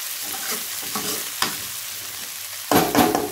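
Brinjal and tomato curry cooks on a low flame with soft, steady sizzling, broken by several scraping stirs in the pan, the loudest pair coming near the end.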